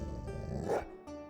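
A single short dog bark sounds in Minecraft after a player drinks a dog morphing potion, a brief near yelp over a steady game background.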